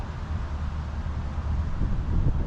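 Steady wind buffeting the microphone, a low continuous rumble with no other clear sounds.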